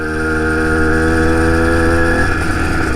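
Small 2-stroke engine on a motorized bicycle, not yet broken in, pulling up a hill: a steady buzzing drone with strong harmonics that shifts and roughens near the end, loud and close, no voices.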